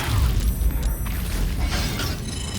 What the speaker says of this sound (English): Hellfire missile targeted on Chav.